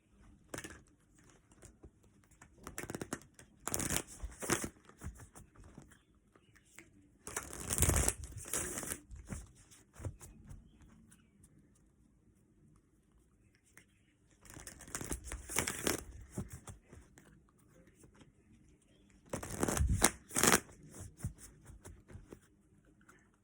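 Tarot cards shuffled and handled in several bursts of riffling and flicking, separated by quiet stretches, close and crisp with no talking.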